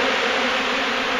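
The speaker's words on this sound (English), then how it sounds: "Do you see all the bees?" Dense swarm of honey bees from a removed hive, a steady close buzzing drone that fills the whole moment without pause.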